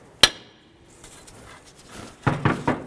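Hammer tapping the top of a tie rod end on a 2004-2009 Dodge Durango, one sharp metallic strike at the start and then three quicker knocks near the end, close and loud over a quiet garage.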